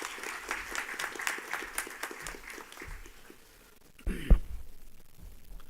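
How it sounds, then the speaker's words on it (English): An audience at a Universal Brotherhood Day function gives light, scattered applause that thins out after a few seconds, followed by a muffled thump and a short low rumble as someone nears the podium. "please welcome him with a warm round of applause"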